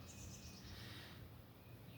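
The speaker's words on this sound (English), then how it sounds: "You can hear the birds." Birds chirp and sing outdoors on a spring day in Tennessee, soft, thin calls drifting over a quiet background hum with no voices.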